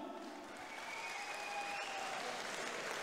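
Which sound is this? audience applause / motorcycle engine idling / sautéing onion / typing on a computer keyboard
audience applause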